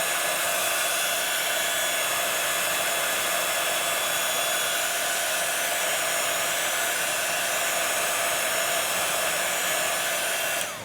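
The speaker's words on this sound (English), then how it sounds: "again, I'm coming in with my heat tool" A craft heat tool blows steadily while drying ink, a loud, even, close hair-dryer-like roar of hot air that holds unchanged for the whole stretch before cutting off at the end.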